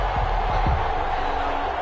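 A stadium crowd in an EA Sports NFL game between the Houston Texans and the Las Vegas Raiders keeps up a dense, continuous roar, with a voice briefly heard over it at the start.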